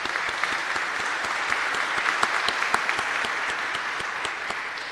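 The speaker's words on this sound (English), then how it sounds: "Please, let's give him a round of applause." Audience at a school Veterans Day ceremony gives a round of applause for a featured speaker, with many hands clapping in a steady, fairly distant patter and crisp individual claps standing out, sustained for about five seconds.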